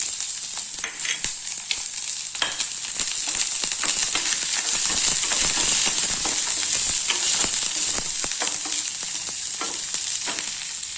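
Small shallots sizzling in hot oil in a pan already crackling with mustard seeds and lentils, a steady close hiss with intermittent stirring scrapes throughout.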